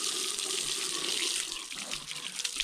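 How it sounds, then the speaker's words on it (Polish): A steady water stream from a tap or shower hose rinses a dog during a bath, a loud continuous broadband rush that dips slightly and turns more uneven and splashy in its second half. "Poleciał strumień. Tu musimy dobrze spłukać."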